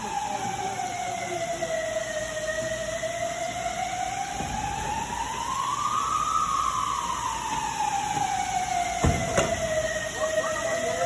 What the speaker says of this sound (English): This is how the fire suppression system in an airport hangar looks.